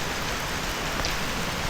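Steady rain falls in a rural Indonesian village, a dense, even hiss of drops spattering on surfaces close by, continuous and unbroken with no voices.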